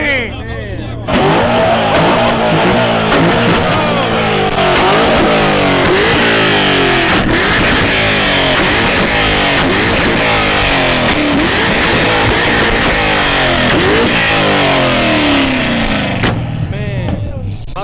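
Several cars rev loudly and continuously at a car meet at a stadium, with overlapping throttle sweeps, roaring engines and some tire squeal close by. A brief quiet gap opens and closes the clip, and people talk under the din.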